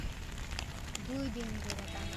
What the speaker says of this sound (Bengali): এত বৃষ্টি গেল আজকে সারাটা দিন